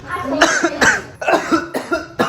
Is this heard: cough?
yes